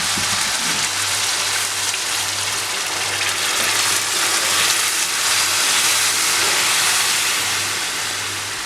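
Hot water poured into a pan of onion stew brings a loud, steady sizzling hiss over a faint low hum, continuous throughout with no talk.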